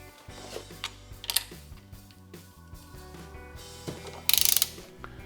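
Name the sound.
ratchet tightening Vespa SS180 clutch bolts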